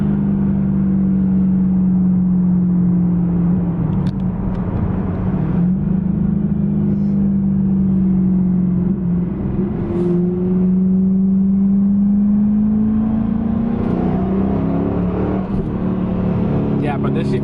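Inside a rebuilt 550 hp manual Camaro, the engine pulls hard with a loud continuous drone that climbs and falls across gear changes over constant road noise, while people talk throughout.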